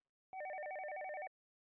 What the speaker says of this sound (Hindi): फोन आया, मैं देखती हूँ।